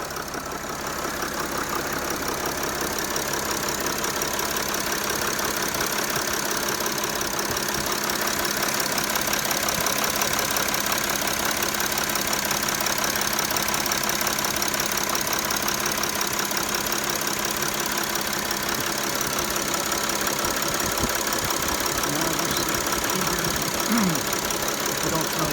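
A Mercedes Sprinter van's diesel engine idles steadily nearby with a rough, knocking rumble, unchanging throughout, after injector seal repair, and a faint voice speaks briefly underneath.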